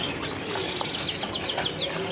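Buffalo mynas at the Pramuka bird market in Jakarta chirp and whistle in short bright calls, mixed with soft cooing and a brief flutter of wings over a constant market murmur.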